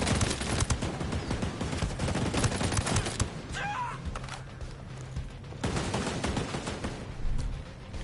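Hostile automatic gunfire in the video game Ghost Recon Breakpoint, loud rapid bursts of shots cracking in dense clusters with a short lull in the middle before firing resumes.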